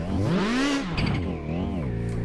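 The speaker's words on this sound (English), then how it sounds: "That little turbo flutter and the crackle when you're shifting into gears from like the anti-lag system" A tuned drift car engine revs hard, its pitch sweeping up then dropping at a gear shift with a brief turbo flutter and anti-lag crackle before climbing again.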